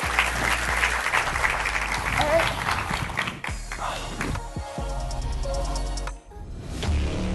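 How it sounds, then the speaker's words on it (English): Audience applause for panelists at a Bitcoin conference, a loud dense wash of clapping that thins out midway, giving way to scattered thumps, handling noises and a low rumble. "give a round of applause to our panelists"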